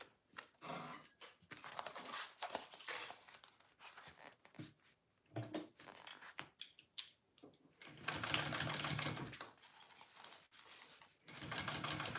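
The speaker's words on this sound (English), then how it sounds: "then I'm going to top stitch" Short bursts of a sewing machine top stitching a bowler bag, stopping and starting unevenly, with a longer steady run near the end and quiet pauses in between.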